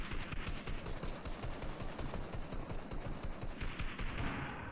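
Automatic gunfire rattles in rapid, dense bursts during a video game battle, coming from several directions at once and fairly faint.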